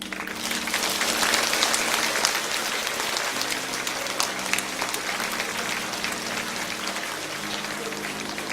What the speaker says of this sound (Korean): 성도 여러분의 뜨거운 박수를